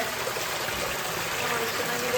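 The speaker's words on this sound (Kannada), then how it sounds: "ನೀರು ಹರಿತದೆ ನೋಡಿ ಒಳಗಡೆ." Water flows steadily inside a cave in Abukuma, Japan, a continuous broadband rushing hiss that fills the space evenly without pause.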